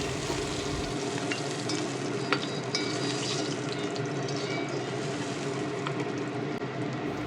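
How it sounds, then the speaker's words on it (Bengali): Oil sizzling and crackling steadily as hilsa fish heads fry, with occasional soft scrapes and pops close by. "ইলিশ মাছের মাথা মাঝারিভাবে ভেজে নিয়ে কড়াই থেকে তুলে নিচ্ছি"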